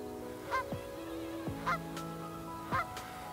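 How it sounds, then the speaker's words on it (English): A family of ducks by a dam in Central Scotland honking loudly and repeatedly, several harsh nasal calls spaced about a second apart, close by over a faint outdoor background. "we've got some very noisy family of ducks."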